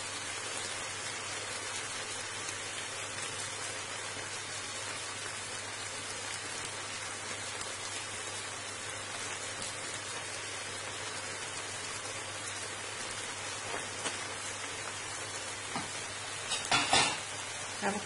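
Onion and pepper frying in a pan for a chicken breast dish make a quiet, even sizzling hiss throughout, with a few soft stirring knocks toward the end.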